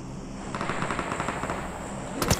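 A UMP submachine gun in PUBG Mobile fires a steady, rapid burst of evenly spaced shots that stays at one loud level and ends with a sharper crack, with no talking.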